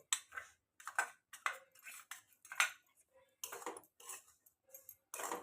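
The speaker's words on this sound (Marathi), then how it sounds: "आता त्याच्यामध्ये पिठी साखर जायफळ आणि वेलची पावडर हे टाकून मिक्स करून घेऊया" A spoon scrapes and clinks against a bowl in short, uneven bursts while powdered sugar, nutmeg and cardamom powder are mixed into karanji filling, close and quiet, no talking.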